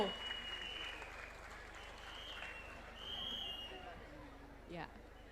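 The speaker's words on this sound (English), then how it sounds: "So guys, please, once again, a huge round of applause." Steady applause from a crowd at a Mr & Miss Bunts pageant in Mumbai, a dense wash of clapping with murmuring voices and a few whistles, heard from some distance.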